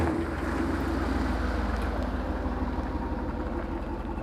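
A wide gas V8 Hummer pulls away at a car meet, a deep, loud, continuous engine rumble throughout with no talking.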